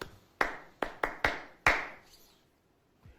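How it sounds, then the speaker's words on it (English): Five or six sharp claps ring out one at a time in a reverberant room, spaced irregularly, then fade into near silence. It sounds like a single person clapping rather than a full audience. "Andy, let's give them a round of applause."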